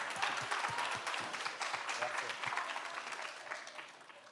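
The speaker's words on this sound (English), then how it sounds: "A big round of applause." Applause from an audience at a tournament awards ceremony, a dense wash of many hands clapping steadily for a few seconds, heard from a distance and fairly faint.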